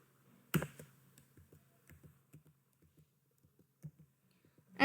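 Keys tapped on a computer keyboard while setting up a serialized string field in Unity, a quiet run of scattered clicks with one sharper strike near the start and another at the end.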